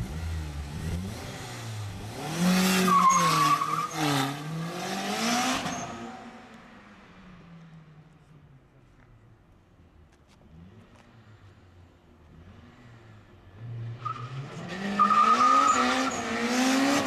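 A turbocharged Honda Civic Si with a K20Z3 engine revs hard and spins its tires in a squealing burnout, fading into the distance, then roaring and screeching back close again.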